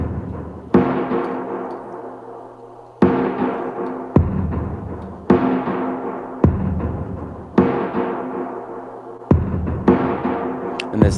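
Heavily filtered, reverb-soaked drums hit in slow, spaced beats, each loud attack trailing off into a long washy decay, with no talking.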